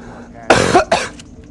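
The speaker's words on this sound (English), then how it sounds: "I just coughed up a lung." Two harsh coughs come in quick succession, loud and close, with a brief gap between them and no speech around them.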